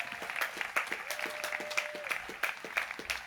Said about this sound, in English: that is definitely worth a round of applause